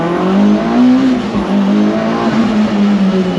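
A tuned Mitsubishi Evo of around 400 horsepower pulls hard in first gear out of a corner, its engine note rising loud and close with a faint tire squeal.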